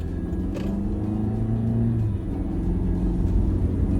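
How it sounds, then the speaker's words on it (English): Loud interior engine drone of a Volvo accelerating as it pulls out onto a highway, a steady rumble with rising and shifting tones as it gathers speed. "pulling out on the highway with the Volvo"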